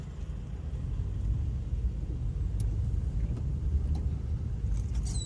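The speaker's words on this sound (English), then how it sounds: "I had to watch out for this tractor trailer." A tractor trailer truck drives nearby on the road, a steady low engine rumble and road noise holding throughout, loud and continuous with no other sounds on top.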